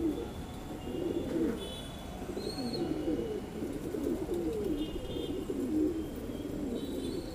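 A strong Madrasi male pigeon, a flying breed, coos repeatedly in low throaty rolling bursts while being held, near and steady throughout, with faint chirps in the background and no talk.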